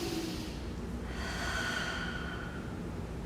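A slow, deep breath drawn in and let out during a full-body stretching exercise, an airy close-up rush of breathing that fills the short moment alone.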